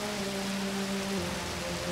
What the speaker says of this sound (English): This drizzle's about to turn ugly.